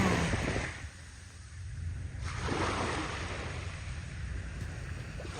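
Steady rushing surf at Bang Saen beach, Thailand, at dawn, with waves washing in and receding, broad wash of noise with a slight wind rumble, no voices.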